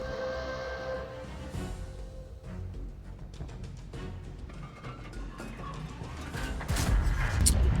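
Tank cannon shots in World of Tanks, with the 60TP Lewandowskiego heavy tank in play: dense booming battle noise with several loud blasts and crashes, growing heavier toward the end.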